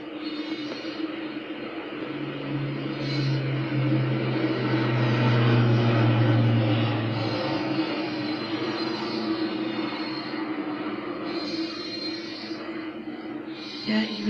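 A low, steady drone of pesticide-spraying aircraft engines builds and passes overhead, swelling in the middle and fading, with a faint voice in the background.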